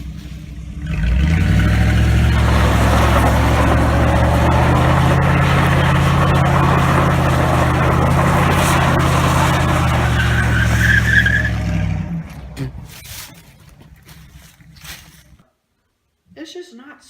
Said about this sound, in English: doing burnouts